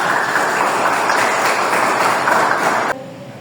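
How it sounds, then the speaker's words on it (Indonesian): Audience applause in a classroom-style teaching session, a dense steady wash of clapping from a group, fairly loud and even, cutting off abruptly near the end. "terima kasih, tepuk tangan kita bersama"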